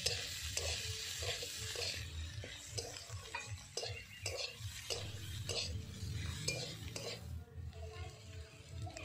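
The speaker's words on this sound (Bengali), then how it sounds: "ডিমটা ভাজা ভাজা হয়ে গেছে, আলু আর গাজরের সঙ্গে মিক্সড করে নেব।" Beaten egg frying with diced potato and carrot in a pan, a steady close sizzle with repeated scraping and clinking of a utensil stirring against the metal pan throughout.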